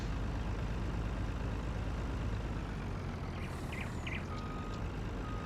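A water truck drives and backs up in the farming game Farming Simulator 19, giving a steady, heavy engine drone throughout, with short high reversing beeps chirping over it toward the end.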